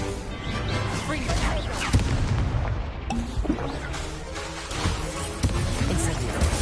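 Booming blasts and crashes of an explosive spell in the video game Hogwarts Legacy on PS5, several heavy impacts amid dense battle noise, with a voice shouting over the fray.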